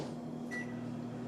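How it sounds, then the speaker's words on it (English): Microwave oven set on high, heating a bowl of food for about 15 seconds, gives a steady, close, low electrical hum with a brief click partway through. "I'm going to place it all into the microwave to mellow"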